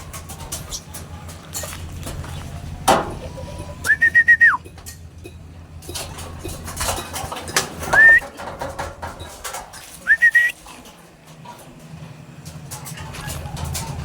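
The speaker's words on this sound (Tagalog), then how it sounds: "so biglang kumulit yung ating mga young bird" Young pigeons at a loft landing board give a few short whistling calls spaced several seconds apart, with some wing fluttering, while someone talks over them.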